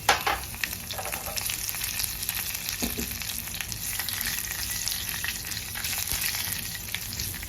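Curry leaves hit hot oil alongside dried chili, crackling and sizzling loudly and continuously close by, with a few sharp pops at the start.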